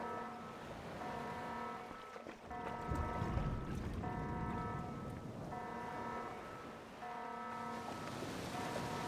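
In Garry's Mod, a ship sinks bow first as water sloshes and rushes steadily over a low mechanical drone, with rising, pulsing alarm tones repeating every couple of seconds.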